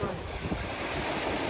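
Sea waves washing on a stony shore by a camp, with a broad continuous rushing roar mixed with heavy wind buffeting the microphone, loud and close.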